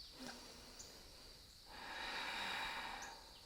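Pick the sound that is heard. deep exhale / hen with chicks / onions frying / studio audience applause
deep exhale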